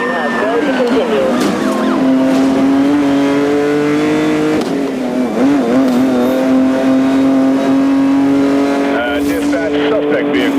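A Lamborghini Countach V12 revs hard during a police chase, a loud, sustained, high-pitched engine howl that rises and falls in pitch throughout.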